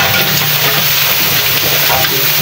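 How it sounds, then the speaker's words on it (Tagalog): Ampalaya (bitter melon), pork and egg sizzle steadily while being stirred in a frying pan, a continuous loud, close hiss of hot oil with faint scraping underneath. "Haluin natin mga busing."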